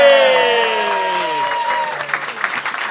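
A live audience at a podcast show cheers and applauds for a birthday, a loud burst of clapping and whoops that slowly thins, with a sustained voice ringing out over the start.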